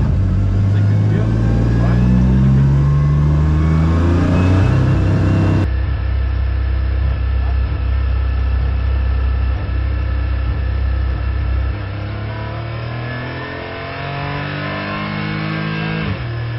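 Porsche GT4 race car engine, loud and close as it accelerates, rising through rev sweeps, then a sudden drop at a gear shift before climbing again, with a steady deep rumble throughout.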